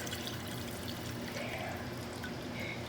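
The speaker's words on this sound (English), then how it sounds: "so I'm going to add some water." Water poured steadily into a pot of beef stew, a continuous splashing trickle at close range with no speech.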